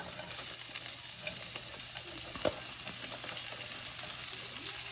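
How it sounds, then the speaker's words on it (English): Onions frying in compound butter in a small pan give a steady, quiet sizzle that runs the whole time, with one soft clink or scrape partway through. "I'm going to add in my onions."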